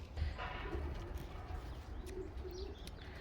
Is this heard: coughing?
no